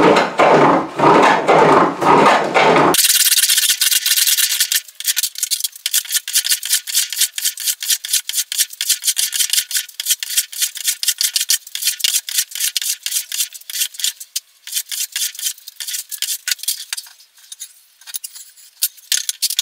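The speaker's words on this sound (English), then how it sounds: "So I'm going to try planing in that direction first." A hand plane shaves wood for a guitar build in repeated quick rasping strokes, close and crisp, after a brief denser scraping start.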